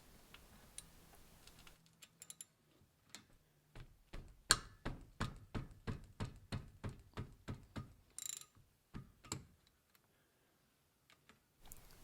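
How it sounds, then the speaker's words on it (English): A ratchet with a 14mm socket loosens the brake caliper slide pin bolt on a Toyota Sienna's front brakes, giving a close series of sharp, evenly spaced clicks in a quiet setting, then a few scattered clicks. "take the 17mm wrench and the 14mm socket and loosen the bolt that goes into the slide pin"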